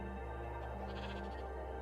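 Sheep bleating in the video game Minecraft, a single faint, short wavering bleat with no talk over it.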